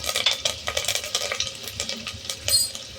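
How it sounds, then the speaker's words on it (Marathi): Onion frying in a pan with cumin, ginger-garlic paste, peanuts and curry leaves while a spoon stirs, giving quick scraping clinks over a soft sizzle, close and busy. "आणि कांदा आणि छान परतून घ्या."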